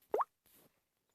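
An Android keyboard gives a single soft, short plop for a key press, followed by a much fainter second tap in an otherwise quiet setting.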